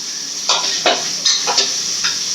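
Chicken pieces fry in a pan for a chicken gravy, a bright hiss cut by four or five distinct scraping strokes of a spoon stirring them up close.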